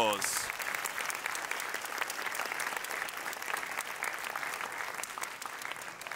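Steady crowd applause at a primary school swimming awards ceremony, dense even clapping from a room full of people, brief voice at the very start before the clapping carries on alone.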